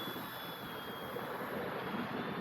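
Freewing Pandora RC airplane in flight at slow airspeed, a steady whirring motor drone with a thin high whine, continuous and moderately distant over a short stretch with no voices.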